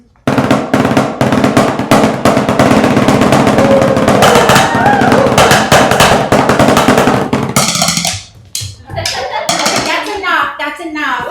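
Drumming on stage at a fringe theatre festival show: dense, rapid snare-like rolls and hits play loudly and continuously for several seconds, then break into scattered strikes with voices and applause-like noise at the end.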